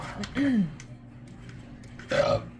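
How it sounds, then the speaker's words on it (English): A person belches twice after eating a spicy stovetop steak, a longer croaking burp near the start and a shorter higher one near the end, close and fairly loud over faint background noise. "it's so good it's making you belch"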